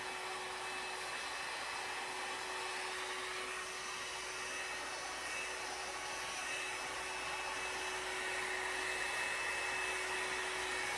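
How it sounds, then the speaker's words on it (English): Blow dryer drying hair, a steady whooshing airflow with a constant high motor whine, moderately faint and unbroken throughout. "Hopefully you can hear me over this blow drying."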